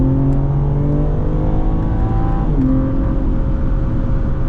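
A BMW M3 engine accelerates at the Indianapolis Motor Speedway during a performance driving school session, producing a loud, continuous engine drone with rising harmonic tones that shift partway through, heard close and without talk.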